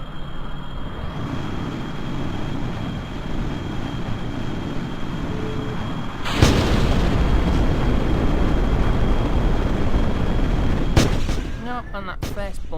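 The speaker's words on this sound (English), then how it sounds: "Full throttle. Hopefully it'll stay down the runway correctly." Simulated aircraft jet engine roaring at full throttle on a runway in Kerbal Space Program, a loud continuous rumble that surges louder midway, a brief crackling burst near the end.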